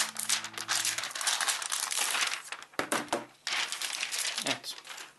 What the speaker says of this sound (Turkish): Şimdi cihazı jelatinden açalım.